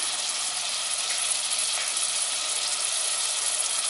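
Chopped onion sautéing in a pan with salt and pepper, giving a continuous even hiss of sizzling oil that holds steady throughout with no talk.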